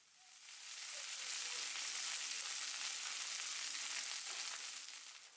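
Garlic and thyme sizzle in a skillet while being shaken around, a steady bright hiss that swells in, holds for several seconds and fades slightly at the end.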